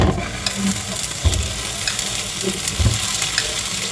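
Pan-grilled sausage frying in a pan alongside Yangchow fried rice, with a loud, steady close sizzle broken by occasional stirring scrapes and knocks, heard without talk.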